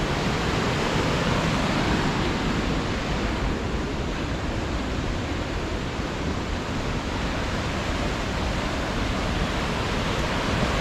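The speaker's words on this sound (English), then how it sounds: "whitewater like that" Whitewater rapids roar steadily along a river on a rough portage trail of a canoe route, a loud, unbroken broadband rush filling the whole stretch with no pauses.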